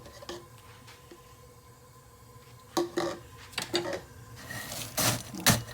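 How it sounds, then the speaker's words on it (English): Honey roasted peanuts pounded by hand for a peanut dipping sauce, quiet at first, then a series of sharp irregular thumps and clatters growing louder toward the end. "Pound and mash it."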